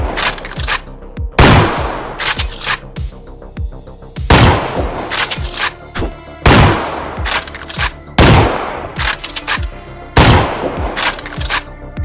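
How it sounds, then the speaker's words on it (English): Sci-fi sniper rifle shots from a video game, layered with bullet ricochets, flanger sweeps and synth drops: about six loud, sharp blasts at regular intervals, each trailing into a swirling, metallic decay, with no voices. "the player's sniper rifle has some bullet ricochet sounds along with some flanger post-processing and synth drop sounds"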